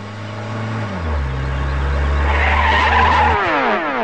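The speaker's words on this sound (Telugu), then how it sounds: "కారు ఎందుకు ఆపావు?" A car brakes hard to a stop, its engine droning low before the tires skid and squeal loudly for a few seconds, with no voices.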